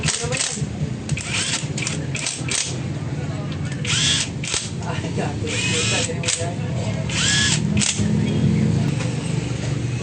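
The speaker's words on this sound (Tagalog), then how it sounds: "hikitan na natin yung mga tornilyo" A power tool drives flywheel cover screws on a Honda XRM 125 motorcycle in short whirring bursts, some rising in pitch, mixed with metallic clicks and clatter while someone talks throughout.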